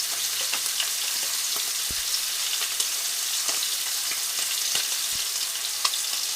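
Short ribs sear in a skillet with a steady, close sizzle and crackle. Occasional small pops and spatters break through, and no one speaks.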